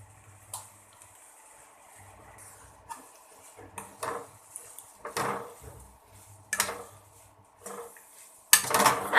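Cooked beans being stirred into masala in a pan, a spoon scraping and clinking against the metal in scattered irregular strokes that get louder toward the end, with no talk.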